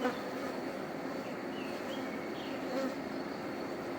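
Honeybees hum inside an opened TSO hive during an inspection, a steady, continuous buzzing drone at moderate level with no pauses and no voices.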